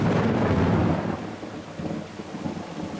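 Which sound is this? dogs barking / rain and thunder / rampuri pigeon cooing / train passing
rain and thunder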